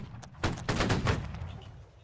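A ragged musket volley rings out in a Holdfast: Nations At War line battle, several shots cracking close together in about half a second, then a rumbling tail that fades away.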